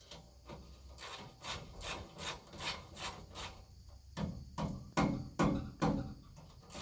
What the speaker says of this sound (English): Take the bolts out here. These are going to be warm, I know